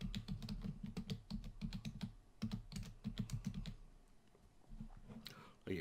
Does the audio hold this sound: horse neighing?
no